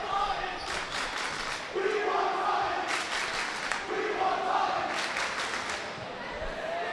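Fans at a high school boys basketball playoff game between Everett and Attleboro in a gym, a roaring crowd with swelling cheers and shouts, with a commentator talking over it.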